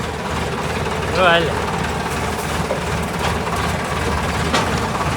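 A tractor engine chugs along a rough village road, a steady low mid-range rumble running throughout while someone talks briefly over it near the start.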